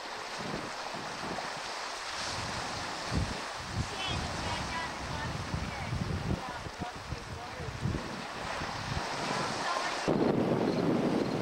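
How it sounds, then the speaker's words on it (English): Calm sea waves wash along a beach near Westerly, Rhode Island, as a continuous breathy surf under heavy wind buffeting the microphone, with a louder gust near the end. "The sea is rather calm today."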